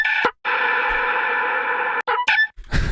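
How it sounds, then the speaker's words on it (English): Sped-up chicken clucking edited into dubstep, rendered as a long buzzy, robotic sustained tone broken by short stuttering chops, loud and processed. "Super fast chicken cluck."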